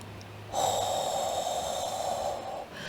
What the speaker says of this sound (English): the sound we're going to make is a guttural sound